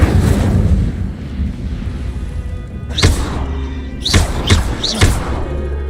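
Incendio fire spell cast in the video game Hogwarts Legacy, a run of sharp whooshing bursts and thuds near the end, several quick casts in succession over a steady low game ambience.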